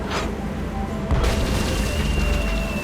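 A Hungarian easy-action cannon fires a cannonball in the Tales of Monkey Island video game: one sudden booming blast midway that gives way to a loud, sustained roar over steady background noise.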